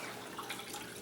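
Four cups of water poured into a saucepan for homemade hummingbird nectar, a soft steady splashing trickle, faint and close, with no talk.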